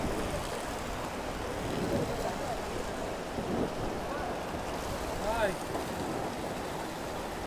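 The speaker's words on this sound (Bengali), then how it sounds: "ভালোই তো বৃষ্টি পড়তেছে, অনেক ভারী বৃষ্টি।" Dense, steady downpour of heavy rain hissing continuously throughout, with a voice speaking faintly beneath it.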